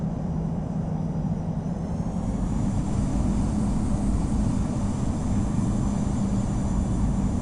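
A Delta A319 airliner taxiing in the Infinite Flight game at Los Angeles, heard as a loud, steady jet engine drone and rumble that stays even throughout with no speech.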